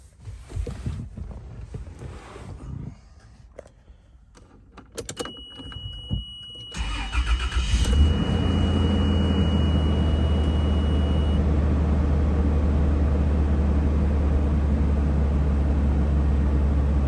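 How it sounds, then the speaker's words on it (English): A 1994 Toyota FZJ80 Land Cruiser cranks over from a cold start after some quiet handling noises, then catches and settles into a steady, loud, close-up idle that runs on unbroken. "we're just going to do a cold start on the Toyota here"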